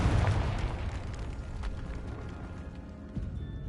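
Confringo explosive spell in Hogwarts Legacy: a heavy rumbling blast up front that slowly decays into a low roar, with a smaller thump near the end, no voices.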